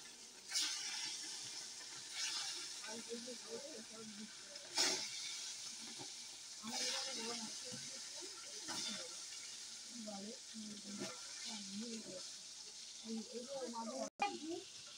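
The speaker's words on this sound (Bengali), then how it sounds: "কড়াই গরম হয়ে গেছে, মাছ ছেড়ে দিচ্ছি।" Fish rubbed with salt and turmeric frying in hot oil in a wok gives a soft, crackling sizzle with a few louder spits, running under intermittent talking throughout.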